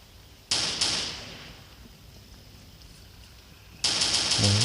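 Gunfire in the Zona Project X video game comes as two sharp, loud shots early on, then a quiet gap, then a rapid burst of several shots near the end.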